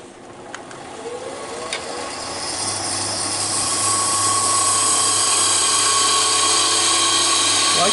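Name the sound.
woodturning a top on a lathe with Henry Taylor bowl gouge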